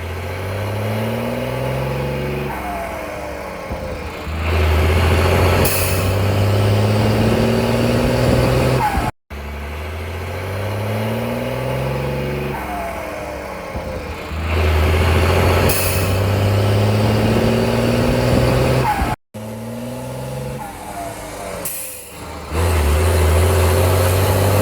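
A loud, deep V8 car engine drones and revs repeatedly, swelling and dropping in bursts with brief gaps between passes, heard nearby without any talking.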